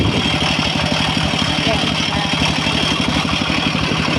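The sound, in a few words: walking tractor engine idling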